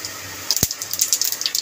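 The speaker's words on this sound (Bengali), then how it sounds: "গরম তেলের মধ্যে ফোড়ন দিয়ে দেবো গোটা জিরে" Whole cumin, cloves, cardamom and cinnamon dropped into hot mustard oil: one sharp clack, then close, irregular crackling and spitting bursts of sizzle that continue to the end.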